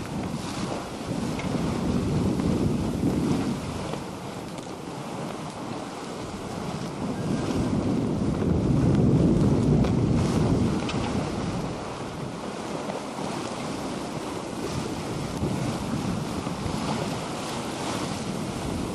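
Wind and ocean waves about 25 miles offshore aboard a sailboat under vane steering, a loud continuous roar of wind noise with swelling surges of sea wash rising and easing in slow waves.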